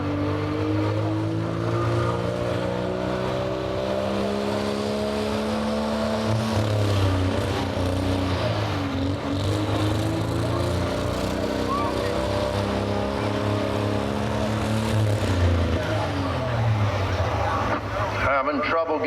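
A Ford turbo diesel pickup at a truck and tractor pull roars continuously at high revs, the engine straining and droning loud and steady for a long stretch as the turbo struggles to spool, with an announcer talking over it.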